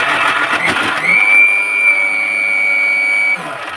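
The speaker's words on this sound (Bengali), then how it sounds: "আপনারা যখন ব্লেন্ডার মেশিন চালাবেন 30 সেকেন্ড করে চলে এসে বন্ধ করি" Electric blender running in a home kitchen, a loud steady motor whine that settles into a sustained high-pitched hum before dropping off near the end.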